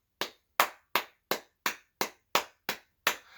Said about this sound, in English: That's my attempt at applause. Single person applause is really hard to do.